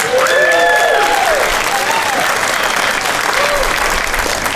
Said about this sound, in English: Can you give our percussionists a big round of applause?